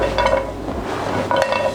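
Cinnamon sticks, onion and ginger dry-roasting in a pan without oil, heard as close clinks and scrapes of a utensil against the pan with a faint crackle between them.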